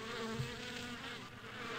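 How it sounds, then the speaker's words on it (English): Steady, close insect-like buzzing of bees fills the whole stretch in a video game, continuous and fairly loud with slight wavering, alone without voices. "Wait, did I hear some bees?"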